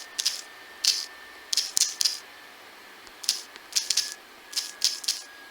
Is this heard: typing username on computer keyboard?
yes